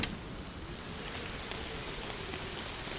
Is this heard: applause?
no